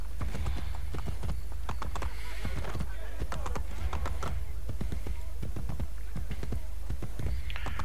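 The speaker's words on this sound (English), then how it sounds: "Jump onto a horse and ride towards the green search area." Galloping horse hooves in Assassin's Creed Brotherhood, a fast, even run of sharp clip-clop strikes continuing throughout, with a voice talking intermittently over them.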